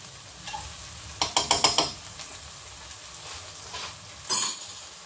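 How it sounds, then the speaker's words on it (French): Curry chicken and coquillette pasta stirred in a sizzling pan, a quick burst of five or six scraping strokes followed by softer scrapes and one last clatter over a low frying hiss. "Vous mélangez tout ça."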